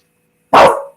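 A puppy lets out a single sharp, loud bark close by, alone in the otherwise quiet room during a late-night chat.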